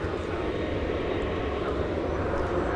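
An airliner departing DFW International Airport, a steady loud jet engine roar held at constant level throughout the short stretch.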